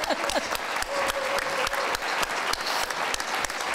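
Audience applause at a governor's debate in Naknek, Alaska, during the Bristol Bay Fish Expo: a steady, dense round of clapping from a crowd that holds evenly for several seconds.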